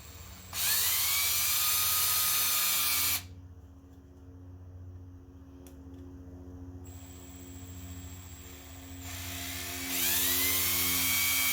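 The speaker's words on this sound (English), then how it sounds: "We are producing these divots with a drill." A power drill bores divots into a wooden wand, giving two loud high-pitched whining bursts at the start and end, with a quieter, lower-pitched running stretch between them.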